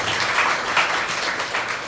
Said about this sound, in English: clap please